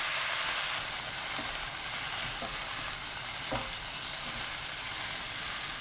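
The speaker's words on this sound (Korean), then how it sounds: "물 100ml 넣고 섞어주세요." Radish namul stirred in a hot pan just after water goes in: a loud, continuous hiss of sizzling with soft scraping stirs and a few brief clinks, steady throughout with no voices.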